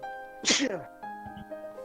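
A sneeze from a player at a tabletop role-playing game session, one sharp loud burst followed by a short trailing exhale, with voices talking just before and after.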